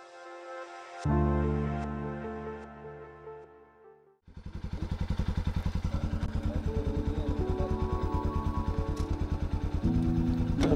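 An old motorcycle engine starts after a brief tonal sound and a pause, then idles with a steady, rapid thumping pulse that stays fairly close and even to the end.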